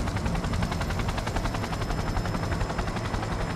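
A helicopter comes in to land in the video game Cyberpunk 2077, its rotor giving a steady, loud, close whir with a fast pulsing beat that runs throughout without a break.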